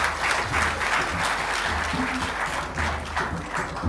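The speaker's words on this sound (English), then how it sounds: "He deserves another round of applause." Dense, loud applause from a gathered audience fills a reception at Jubilee House, sustained clapping for the Ghana Black Stars with a few voices mixed in.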